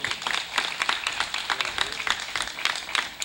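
Audience at a school cultural event applauding the administrative and support staff, scattered clapping of moderate loudness running steadily throughout, with a busy, uneven texture of many hands.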